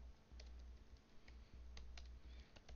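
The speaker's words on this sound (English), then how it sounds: "you will be quick in typing the way I am" Fast typing on a computer keyboard while coding an Express and Mongoose tutorial: a quick, uneven run of close, crisp key clicks with brief pauses and a low hum underneath.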